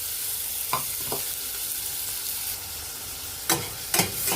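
A medium chopped onion sautéing in hot oil with cardamom and cinnamon gives a steady hiss, broken by a few sharp spoon scrapes and clinks against the pan, two of them early and two louder ones near the end.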